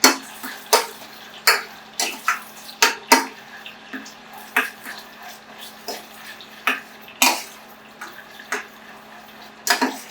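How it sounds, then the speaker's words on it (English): Spoon scraping and clinking against a pot as tomato paste is stirred into oil, a series of sharp, irregular taps and scrapes close by over a quiet hum, with no talking. "stir this tomato paste into this oil"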